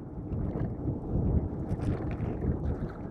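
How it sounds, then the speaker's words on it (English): Wind rushes past while riding an eBike uphill into a headwind, a steady loud buffeting roar on the microphone with gusty swells and no voices. "So now we've got uphill into the wind."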